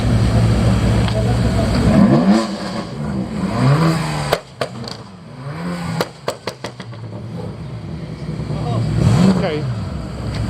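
A BMW F10 M5 with its V8 engine revs loudly nearby, rising and falling in several bursts with sharp pops between, while people talk over it in a parking lot.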